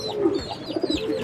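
A racing pigeon coos softly in a loft, giving a short run of low, throaty, repeated coos close by.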